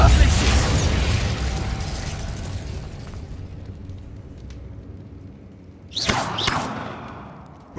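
A Repulsor spell cast in Hogwarts Legacy, a loud blasting burst at the start that fades into a rumbling decay, followed by a second sharp whooshing burst near the end.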